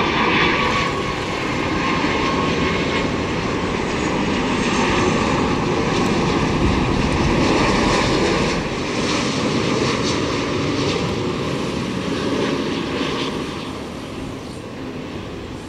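A Vietjet Air Airbus A330-300 airliner taking off, its jet engines giving a loud, sustained roar that holds steady and eases slightly near the end, with no talking.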